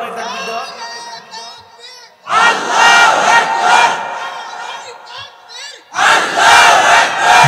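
A crowd of men at a religious gathering shouts the takbir, Allahu Akbar, in two loud, full-throated bursts, each following a single voice leading the call.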